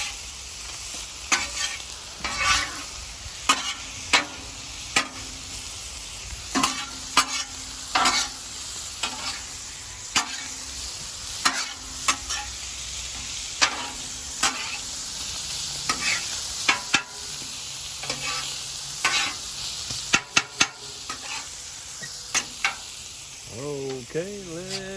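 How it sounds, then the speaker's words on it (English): Mixed vegetables sizzle on a hot Blackstone flat-top griddle while a spatula repeatedly scrapes and taps the steel surface, a steady close hiss broken by sharp metallic strokes. "Okay, we've got the mixed vegetables on here. Letting them cook up."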